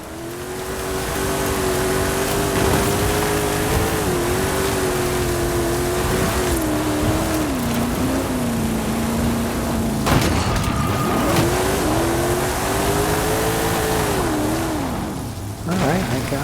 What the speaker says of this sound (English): it's RJ Anderson Pro 2 truck